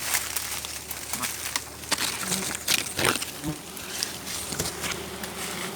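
Bees buzz steadily around an open beehive as honey fills the comb, a close, continuous insect drone with brief rustles and crackles mixed in.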